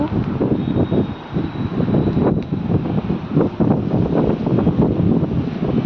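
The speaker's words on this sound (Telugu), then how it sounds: "చూడండి ఎలా వస్తుందో గాలి." Strong, cool evening wind buffeting and rumbling continuously around a house near a bypass road, gusting unevenly with a roaring, blustery texture close to the listener.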